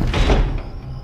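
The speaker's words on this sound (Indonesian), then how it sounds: "pintu ruangan itu tertutup dan terbuka dengan sendirinya, seperti ada yang memainkannya." A door swings and bumps shut, a single short muffled thud with a brief rattle that fades within a second, heard alone.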